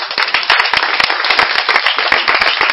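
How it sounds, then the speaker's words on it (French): A congregation claps and applauds in a church service, dense continuous clapping filling the space with sharp overlapping hits, loud and close throughout with no voices on top. "On acclame le Seigneur."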